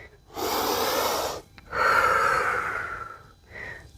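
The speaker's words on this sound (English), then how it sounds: "Breathing nice and controlled and calm. Fully exhaling." Controlled breathing during a home yoga-inspired strength and mobility workout: a long forceful inhale, a short pause, then a long audible exhale and a brief final breath, close to the microphone.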